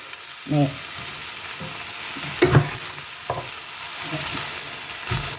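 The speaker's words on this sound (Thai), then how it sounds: "เราก็ผัดตามสไตล์เราเนาะ เราชอบแบบไหนผัดแบบนั้นนะคะเพื่อน" Vegetables being stir-fried in a pan for pad see ew with rice vermicelli and pork: a constant oil hiss broken by a few sharp utensil scrapes and clatters, close and moderately loud.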